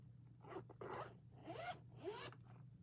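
A zipper being zipped closed on a small bag, several quick rasping pulls in a row, close and fairly quiet with no talking.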